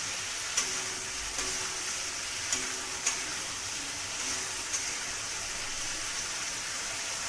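Pointed gourd pieces frying in a pan of spiced masala with fried potatoes, giving a continuous bright sizzle with a few sharp clicks from stirring, close and alone.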